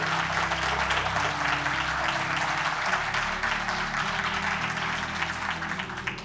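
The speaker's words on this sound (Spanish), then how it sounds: "Dale un fuerte aplauso a Dios." A church congregation applauding at a Sunday service, dense sustained clapping from many hands over a low musical hum, filling the room for several seconds.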